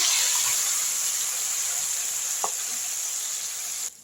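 Dried anchovies frying in hot oil, giving a steady, loud, close sizzle with one brief tap partway through before it cuts off near the end.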